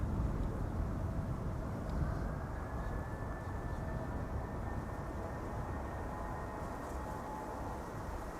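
A Lufthansa CRJ regional jet departs Amsterdam Schiphol Airport, a steady broadband engine roar that holds fairly loud and unbroken throughout, with a faint whine riding on top.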